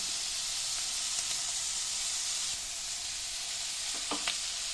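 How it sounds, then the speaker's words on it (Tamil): Cashew nuts fry in a pan for paneer butter masala, giving a loud, even, continuous sizzle and hiss close up, with a couple of faint clinks near the end. "இதில் இந்த முந்திரி பருப்பை சேர்த்துக்கிறேன்"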